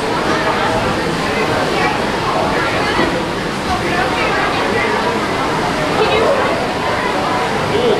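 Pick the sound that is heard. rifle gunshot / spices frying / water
water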